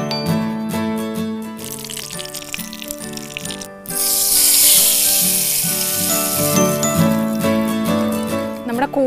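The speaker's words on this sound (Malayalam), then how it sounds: "ഇതിലേക്ക് നമുക്ക് കുറച്ച് കടുക് പൊട്ടാനിടാം." Mustard seeds crackle in hot oil for a mushroom thiyyal, a bright sizzling burst rising midway over steady background music and then fading back under it.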